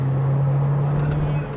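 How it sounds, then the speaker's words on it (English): A Ferrari 458 Speciale's engine holds a steady, gruff drone, loud and close for a short stretch before easing off at the end. "This car sounds absolutely sensational"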